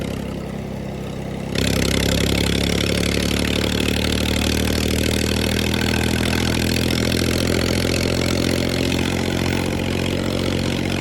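Tractor engine running close by, a faint low rumble that rises sharply after a second and a half into a loud, steady idle with a constant harmonic drone for the rest, with no talk.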